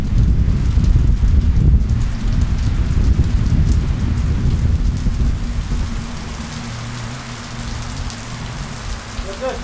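Heavy rain pours steadily during a rainy-season thunderstorm, with a deep rumble of thunder rolling underneath early on, dense and loud throughout.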